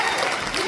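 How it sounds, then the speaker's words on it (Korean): A short burst of dense applause from an audience at a Korean political event honoring a National Assembly member, steady and fairly loud throughout. "다시 한번 박수 부탁드리겠습니다"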